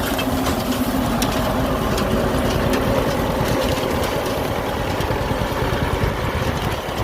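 A Chinese tractor engine drones steadily during an Egyptian wheat harvest, a loud, continuous mechanical rumble with rattling, and no voices over it.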